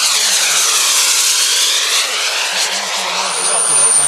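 A replica airplane flies at an air show in Môtiers, with a loud, continuous engine roar that holds close and steady throughout, its pitch sweeping slightly as it passes.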